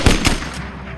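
Sharp gunfire effects in a Spanish audiobook of Treasure Island, as shots fire from a stockade: two quick loud cracks in rapid succession, then a fading echo.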